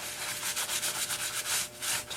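Rubbing a finish by hand onto an air-dry clay leaf bowl gives a close, steady scratchy rub. Repeated strokes sound alone for about two seconds.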